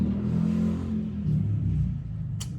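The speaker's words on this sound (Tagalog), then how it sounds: "Ingay ng motor" A motorcycle engine rumbles steadily and close by for the whole stretch, with a low throaty drone, a slight rise in revs midway and a brief sharp hiss near the end.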